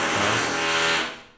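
Jackhammer hammering at a nearby construction site, a loud, steady broadband clatter that holds for about a second before tapering off.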